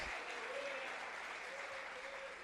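Baptist church congregation in Salvador, Bahia claps together during an evening service, steady moderate applause filling the hall with a faint voice underneath.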